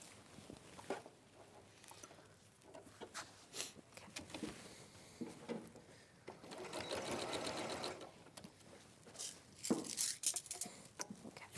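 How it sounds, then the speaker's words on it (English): A sewing machine stitches the remaining part of a garment armhole in short close bursts of rapid mechanical patter, with a longer run near the middle and quiet pauses between. "I'm just going to sew the remaining of the armhole"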